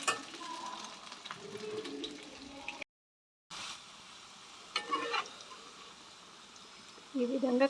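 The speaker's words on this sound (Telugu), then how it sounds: "ముందుగా క్లీన్ చేసుకున్న కాకరకాయలను అయితే వేసేసుకొని వీటిని అయితే ఫ్రై చేసేసుకుంటున్నాను" Cleaned bitter gourd pieces fry in a pan, a soft crackling sizzle with stirring scrapes that drops out briefly, then returns with a few louder clatters near the end.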